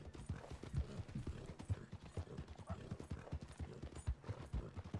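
Horse hooves clip-clop at a steady trotting rhythm in the Red Dead Redemption video game, close and continuous over a low background rumble.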